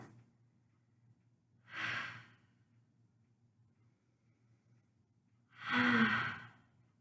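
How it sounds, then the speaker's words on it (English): Two slow, audible breaths taken in a yoga child's pose, forehead resting and arms outstretched; each exhale is a soft, close sigh about four seconds apart, with quiet between. "big breath"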